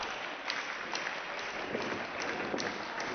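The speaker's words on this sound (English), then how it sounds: "Everybody's clapping in anticipation." A wrestling event crowd claps steadily in anticipation, a dense, sustained wash of many hands with no voices standing out.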